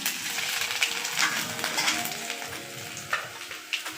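Panch phoron spices and chopped ginger crackle and sizzle in hot oil for Bengali helencha shak, a busy close frying hiss with occasional sharp pops, no voices.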